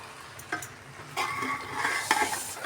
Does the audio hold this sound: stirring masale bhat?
yes